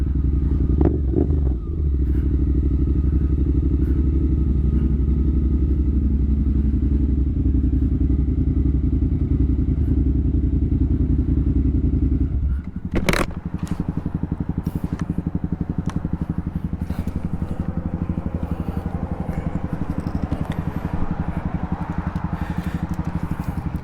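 A motorcycle engine drones steadily and loudly close by on the road. A brief thump breaks the sound midway, and the engine noise then continues with light rattles.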